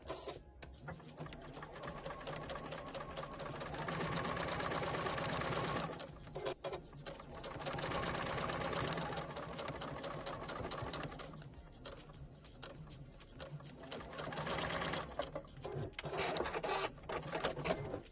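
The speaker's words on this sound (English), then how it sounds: "So this one I'm just going to sew down here." A sewing machine stitches fabric for homemade Easter decorations, running in steady mechanical bursts with short pauses between them, faint and close with no talking.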